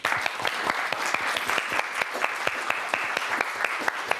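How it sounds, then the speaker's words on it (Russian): A studio audience at a Russian television talk show about happy families claps in a sparse, sharp burst, individual hand claps clearly distinct and fairly rhythmic, moderately quiet and without talk. "эта информация достойна бури аплодисментов"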